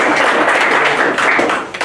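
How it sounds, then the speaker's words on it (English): Crowd applause at an outdoor rally event, a dense, loud wash of many hands clapping that holds steady and then begins to thin out near the end. "And can we just have a round of applause"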